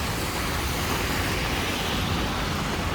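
Steady, dense roar of heavy traffic on a New York City street in rain, with big trucks passing close by and a continuous rumble and hiss with no clear breaks.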